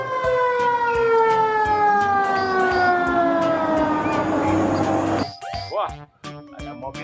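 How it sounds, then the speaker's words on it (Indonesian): A fire tanker truck's siren wails loudly and close, its tone sliding steadily downward for about five seconds before cutting off, followed by brief scattered noises with voices faintly underneath. "mobil tangki pemadam kebakaran"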